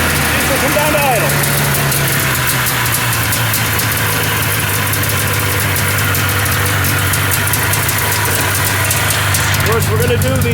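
A Safari 503 snowmobile engine idles loud and close, a steady throbbing rumble with a faint rattling edge throughout, and a voice is heard briefly over it.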